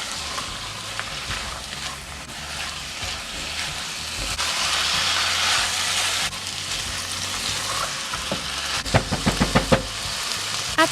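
Chicken shami kabab mixture sizzles in a pan as it roasts with chili powder and dried mint, a steady loud frying hiss with a few sharp crackles and pops near the end.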